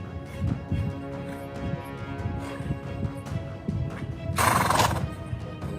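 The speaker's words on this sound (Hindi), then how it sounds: "तभी तो इस घोड़े को यह बर्फबारी काफी भा रही है।" A horse whinnies loudly out in heavy snowfall, with a long neigh near the end and hooves clip-clopping through the clip.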